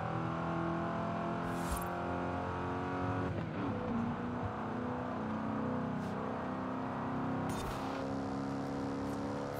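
A Ford Crown Victoria police car engine runs and accelerates with a sustained, loud, harmonic drone, rising in pitch around the middle with a couple of short squeaky transients; no speech over it.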